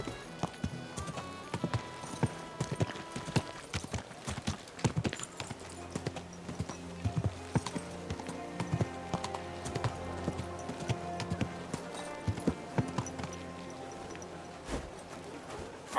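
Horse hooves clip-clop in a steady, continuous rhythm as a mount travels in the medieval open-world game Kingdom Come Deliverance II, layered over a busy backdrop of game ambience.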